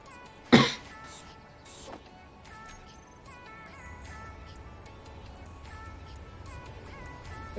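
A single sharp cough bursts out near the start from a man with a near-chronic cough, followed by a softer throat sound about a second later, then quiet room tone.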